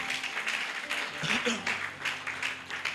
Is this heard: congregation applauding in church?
yes